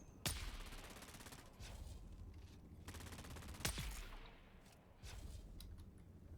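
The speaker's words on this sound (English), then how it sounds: "I hear another disruptor up there" Disruptor gunfire in the video game Dune: Awakening, with sharp loud energy blasts at the start and again midway, separated by bursts of rapid crackling fire and dense combat noise.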